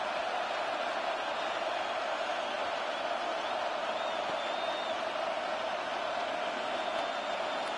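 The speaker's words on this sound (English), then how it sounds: "Here comes a big one as this crowd gets up making some noise" Steady broadband roar of a stadium crowd at a Madden 26 simulated Colts at Jaguars football game, a constant wash of distant cheering and murmur with no clear peaks throughout.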